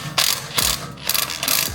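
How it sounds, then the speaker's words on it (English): An impact wrench loosens the wheel bolts on a Honda car in several short, loud rattling bursts with brief gaps between them, close up and with no talk. "We're just gonna impact it and get them off."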